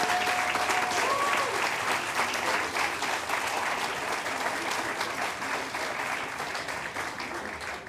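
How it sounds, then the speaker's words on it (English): Steady applause from a civic audience honouring city staff and police personnel at a State of the City address, a dense wash of clapping that fades slightly toward the end. "Let's give them a round of applause."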